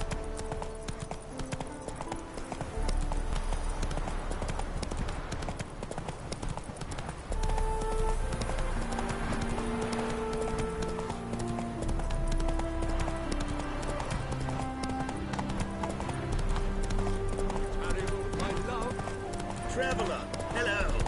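Roach the horse gallops in The Witcher 3 with rapid steady hoofbeats that continue for the whole stretch, under game music and ambient sound, with voices talking in places.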